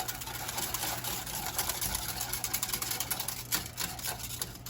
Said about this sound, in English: I'm going to take that and I'm going to whisk it together.